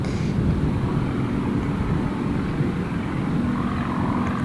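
A Yak display aircraft takes off from Gold Coast Airport after the Pacific Airshow, its engine a steady, loud low drone that holds level throughout without pauses.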